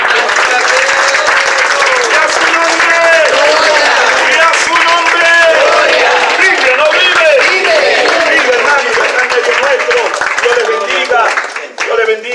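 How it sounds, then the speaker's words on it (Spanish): Church congregation applauding loudly and continuously, a dense, steady wash of clapping with cheering voices mixed in throughout, tapering slightly at the very end. "recibe el aplauso que es para ti"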